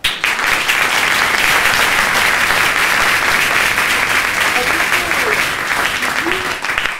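A crowd applauding a singer, a thick, even wash of many hands clapping that stays steady and loud from start to finish.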